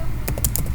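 A few quick keystrokes on a computer keyboard as an strace command is typed, three or four close, sharp clicks in under a second.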